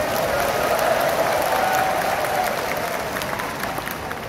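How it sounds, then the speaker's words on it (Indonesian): Sustained applause from a large audience of teachers at a speech event, steady and dense throughout, with a slight fade toward the end. "Ini kalau saya ngomongnya pendidikan, tepuk tangannya keras."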